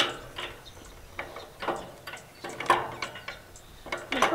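A homemade jib crane at a sawmill is cranked by hand, giving repeated ratcheting clicks and mechanical ticks in an uneven rhythm, fairly close and moderately quiet.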